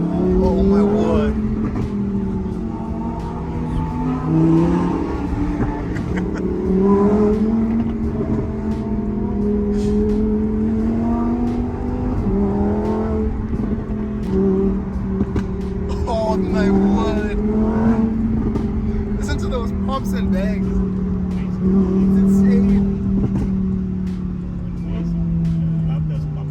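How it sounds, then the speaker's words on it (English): Hyundai i30N exhaust note heard from inside the cabin while driving, a steady low engine drone with shifting pitch as it accelerates and eases off, continuous throughout under ongoing conversation between occupants. "we're hearing the exhaust like just behind our ears"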